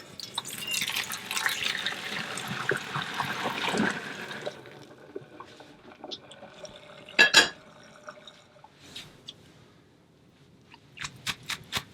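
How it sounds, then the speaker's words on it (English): Fresh homemade pasta and its hot cooking water pour into a colander in a home kitchen, a rushing splash for about four seconds, then scattered drips, a sharp clink and light rattles as it drains. "this fresh homemade pasta ain't gonna take but just a couple of minutes. Right into our colander."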